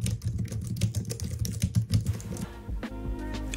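Quick, even keystrokes tap on a Logitech MX Keys keyboard, soft and close, clattering for about two seconds before trailing off into a low hum.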